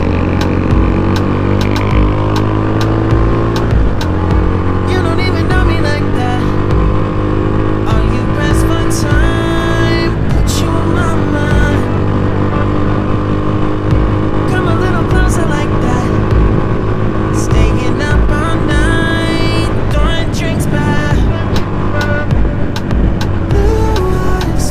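A stock Rusi Classic 250 motorcycle runs at sustained high speed on a top speed attempt, its steady engine drone loud and continuous with gear-change dips and rising pitch through the run, wind rush throughout.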